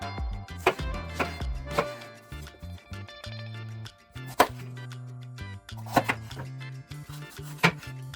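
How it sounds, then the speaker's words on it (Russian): A knife chops bell pepper into large cubes on a board in irregular sharp knocks, fairly close and loud, with low kitchen clatter between strokes. "Перец тоже порежем крупными кубиками."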